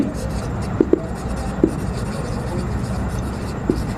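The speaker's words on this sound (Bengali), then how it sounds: "এখানে আমি যদি লিখি রহিম" Chalk or marker writing on a classroom board, a few short scratchy taps and strokes against a steady background hum, fairly close, with no speech over it.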